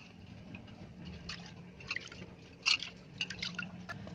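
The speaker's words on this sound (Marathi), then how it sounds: "आणि अजून स्वच्छ परत चांगल्या 2 पाण्याने धुवायचं." Fish is rinsed by hand in a vessel of water in a home kitchen, making faint, scattered drips, small splashes and squishy sloshes with quiet gaps between them.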